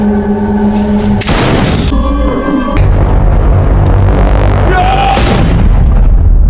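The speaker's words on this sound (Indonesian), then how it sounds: "Namun Alice menembaki robot itu dan membunuh teman Nick" Gunfire from a film scene with a robot, heavy loud booming blasts over dense music and effects, a few sharp bangs standing out in the mix.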